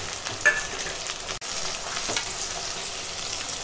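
Ginger-garlic paste, chopped tomato and green chilli fry with browned onions in a pan for a mutton curry, a close, steady sizzling hiss with one brief dip partway through.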